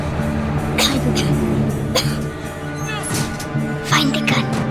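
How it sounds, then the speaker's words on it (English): A character coughs repeatedly in the war game Modern Warfare, a run of harsh, close coughs and throat-clearing spaced over a few seconds against a tonal musical or ambient bed. "They'll hear you coughing."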